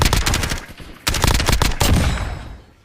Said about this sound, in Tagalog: Ang ganda nung effects nung baril ano.